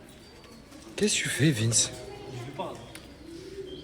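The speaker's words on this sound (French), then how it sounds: "C'est la première fois que je vois un type qui prend un pigeon." A pigeon coos in a few soft, low rolling notes close by, partly under a voice speaking French.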